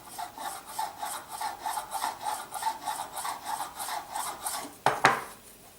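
A Pokemon card is scratched under moderate pressure, a rhythmic, faint rasping scrape repeating at a steady pace, followed by a couple of sharper scuffs near the end.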